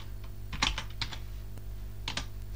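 A short burst of keystrokes on a computer keyboard while entering a Linux command-line command, a few quick clusters of clicks over a steady low hum, fairly quiet and with no talking.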